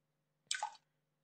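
A short splash of water from a sink in a video game, one brief gurgling gush lasting under half a second over a faint low hum, otherwise quiet.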